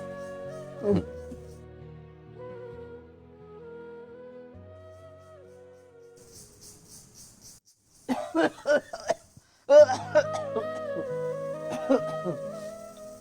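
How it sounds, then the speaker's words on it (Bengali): A short fit of several harsh coughs breaks out near the end, following a quiet stretch with soft music in the background. "তোমার কাশি এখনো ভালো হয় না?"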